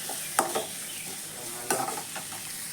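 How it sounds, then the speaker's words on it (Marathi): Squid masala ingredients sizzle quietly as they roast in a pan, with a steady soft hiss broken by two sharper scrapes of stirring, no talking over it. "सो हें सगळें बरें भाजून घेवपाचें."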